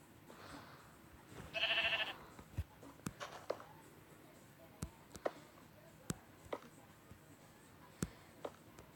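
A sheep on a farm gives a single loud bleat near the start, followed by scattered faint footsteps and small knocks in a quiet outdoor setting.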